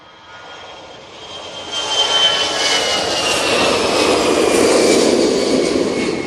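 A Lauda jet begins its takeoff roll at Manchester Airport bound for Vienna. The engine roar swells sharply after a quieter start, then holds loud and steady with a high whine over a broad rushing noise.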